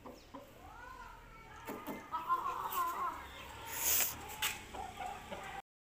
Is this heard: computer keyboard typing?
no